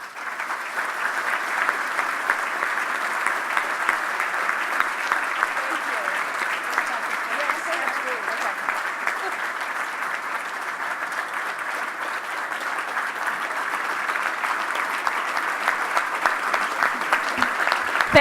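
Long, steady applause from an awards audience honoring Harry Weller with the Michael G. Devine Hall of Fame Award, dense clapping holding evenly throughout.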